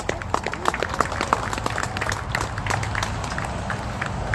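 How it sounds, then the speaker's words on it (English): Audience applause at a legislative session, scattered claps with some sharper individual hits, moderately loud and steady throughout, with no distinct speech. "Let's give them a round of applause."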